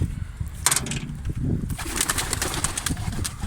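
Pigeons coo and flutter nearby, with wings flapping and soft bird sounds over a steady background rumble.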